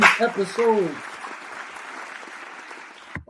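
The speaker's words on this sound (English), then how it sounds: "Give it up some more for us. Man, don't stop clapping." Audience applause at a sports podcast season finale, a dense wash of clapping that runs for a few seconds and fades, with a voice shouting over it at the start.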